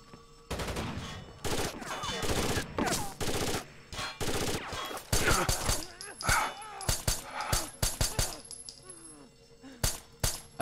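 Beretta pistol firing in Rainbow Six Vegas 2, loud sharp shots in rapid bursts and clusters with clinking casings, some overlapping heavier gunfire, and someone talking in between.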